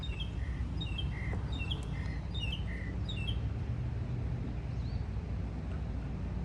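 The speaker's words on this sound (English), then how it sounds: "And there's a bird up there singing his heart out. A mockingbird." A mockingbird sings outdoors, repeating short, bright chirps and whistled phrases in quick bursts, heard at a moderate distance over a constant low rumble of wind or distant engine noise.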